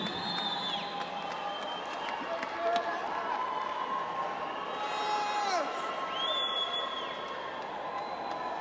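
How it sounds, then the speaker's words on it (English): An audience at the Permican 2016 music awards applauds and cheers after a Song of the Year announcement; a fairly soft, even wash of clapping with scattered shouts carries on throughout. "Give him a great big round of applause, ladies and gentlemen"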